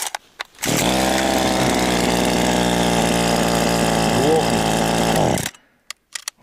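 A chainsaw engine running steadily after being started, a loud buzzing drone holding for several seconds before cutting off abruptly, heard close up outdoors.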